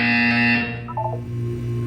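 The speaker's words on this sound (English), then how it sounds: "You will hear a buzzer." A loud, sustained electronic buzzer from the Portal 2 video game drones steadily, its tone shifting partway through with a brief chiming flutter, no voices over it.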